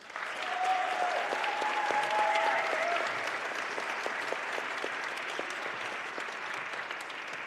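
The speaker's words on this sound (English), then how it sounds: "have a big applause for them" An audience at a plenary session applauds steadily for several seconds, a broad, even patter of clapping at moderate distance that stays level before tapering slightly, with a faint voice briefly audible over it early on.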